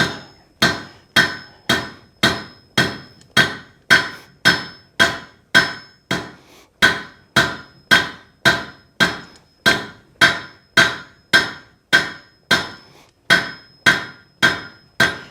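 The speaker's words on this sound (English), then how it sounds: "We're going to start over the horn of our anvil." Steady hammer blows ring out as steel is forged over an anvil horn, about twenty-five sharp metallic strikes in an even rhythm roughly every half second, loud and close, with no voices.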